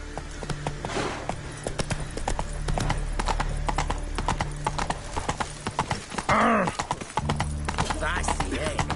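Roach, the horse in The Witcher video game, gallops with rapid clip-clopping hooves throughout and lets out a loud neigh near the middle, while voices talk over the galloping.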